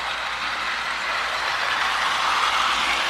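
A Marx toy train motor pulls a set of Zephyr cars around O48 curves, giving a steady, close whirring rumble that holds an even level with no breaks.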